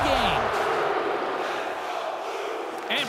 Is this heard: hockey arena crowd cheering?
yes